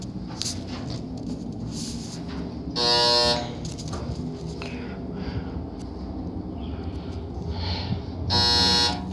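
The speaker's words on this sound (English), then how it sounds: "And there's that annoying buzzer." A Samsung elevator buzzer sounds twice, a steady harsh electronic tone lasting about a second each time, over a rumbling mechanical background.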